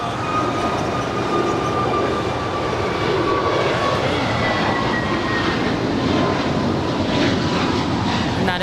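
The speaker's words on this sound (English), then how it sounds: "That is American Flight 59 off to Kailua Kona on the Big Island of Hawaii" Steady jet engine roar from an American Airlines Airbus A321neo departing LAX for Kailua Kona, loud and sustained with a slight swell in the second half, with faint high whining tones above the rumble and no voices.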